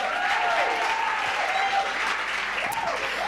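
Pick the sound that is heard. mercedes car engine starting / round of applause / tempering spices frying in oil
round of applause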